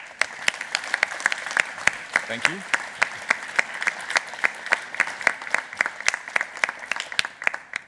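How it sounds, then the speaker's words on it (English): An audience at a game industry conference applauds steadily, with dense, sharp claps from a large hall, and someone briefly speaks over it. "Give them a round of applause."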